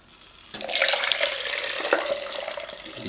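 Tap water running to rinse color slide film during home development, a steady close splashing flow that starts abruptly after half a second of quiet and continues evenly, with no talking.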